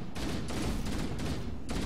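Rapid bursts of assault rifle fire in Halo 1, on the Legendary difficulty Library level, coming in several close, loud volleys with brief gaps between them.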